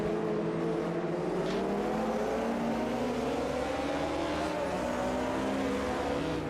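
Several race car engines from the Automobilista 2 racing game, a dense, continuous mix of high revving motors whose pitches rise and shift together through a corner, loud and constant with no talk.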